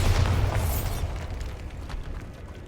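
Bombarda spell in the video game Hogwarts Legacy: a loud booming blast opens the clip, then a rumbling, crackling tail that fades slowly over a couple of seconds. No one speaks.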